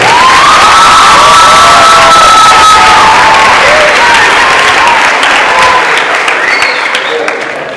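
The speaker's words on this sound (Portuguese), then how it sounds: "Uma salva de palmas." Loud crowd applause and cheering at a marriage proposal celebration in a church setting, dense clapping with shouts and whoops, including children, sustained throughout and easing slightly at the end.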